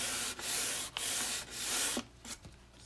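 An egg tempera painting is sanded by hand with 150 grit sandpaper in rhythmic back-and-forth strokes, four long rasping passes followed by a few shorter ones, close and loud with brief pauses between strokes.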